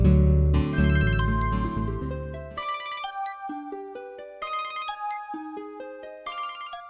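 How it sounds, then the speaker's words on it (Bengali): A mobile phone plays a melodic electronic ringtone loudly and up close, its bright notes stepping through a repeating tune for several seconds with no one talking. "স্যারে ফোন দিছে, আব্বাই ফোন দিছে, সাদর সাহেব।"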